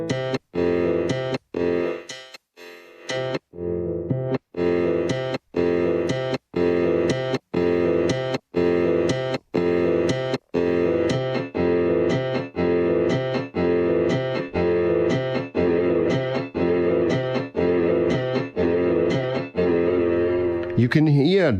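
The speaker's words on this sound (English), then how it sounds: "You can hear the instability on the tone when you act on the drift." A sustained synthesizer tone, processed by a pitch drift and distortion effect, wavers and wobbles in pitch, gritty with distortion and chopped into a steady rhythmic pulse, ending in a swooping bend.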